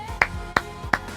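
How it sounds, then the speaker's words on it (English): Three sharp, separate hand claps spaced about a third of a second apart, close and fairly loud over a quiet background hum, with no crowd joining in. "can we get a round of applause?"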